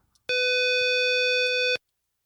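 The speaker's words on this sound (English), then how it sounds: "I just want to get a clean sine wave" Steady electronic test tone played through a Quad Cortex while gain staging a capture, a pure pitched tone with harmonics, sustained about a second and a half, starting and stopping abruptly, heard alone.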